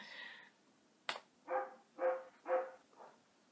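A dog barks four times in a steady rhythm, moderately close, after a short tonal sound and a sharp knock at the start.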